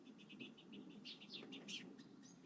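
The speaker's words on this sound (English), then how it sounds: "You guys can enjoy the sounds of birds while I meticulously do this." Small birds chirp and tweet outdoors in a quiet natural setting, rapid overlapping calls at a moderate distance, fairly soft, with no talking.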